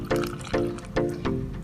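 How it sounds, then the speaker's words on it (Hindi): Lukewarm water poured in small splashes into semolina dough being kneaded, four short separate pours in an even rhythm, close and clear. "पानी हम थोड़ा थोड़ा डालते जाएंगे।"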